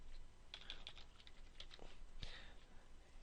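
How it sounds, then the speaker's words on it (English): Soft typing on a computer keyboard while entering a page title in Dreamweaver, with a short burst of light clicks and a few spaced keystrokes, faint and close. "for the title, I could type Modern"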